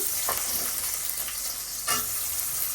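Chopped onion, bay leaf and radhuni frying in a pan, a steady close crackling sizzle with a few soft stirring scrapes and no one speaking.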